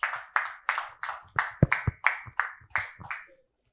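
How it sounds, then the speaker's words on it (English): About a dozen sharp, evenly spaced claps from a small audience at a criminal law review conference, each one distinct and close, ringing briefly in a quiet room. "Let's give him a round of applause."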